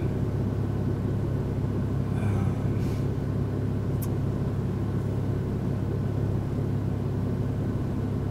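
A Porsche 911 Turbo PDK (997) accelerates on a night drive through Stockholm, its engine a steady, loud low rumble heard from inside the car with little change in pitch.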